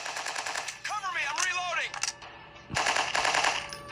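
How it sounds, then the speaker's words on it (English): Rapid automatic gunfire from a mobile shooter game, a dense rattle of shots filling most of the clip with a brief lull midway, while a voice speaks over it. "Ah, I'm getting shot."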